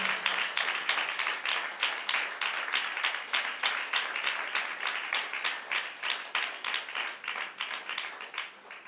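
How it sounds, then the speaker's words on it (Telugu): A church congregation at a Sunday service claps together in a brisk, even rhythm, many hands beating in unison at a steady pulse throughout. "చప్పట్లు."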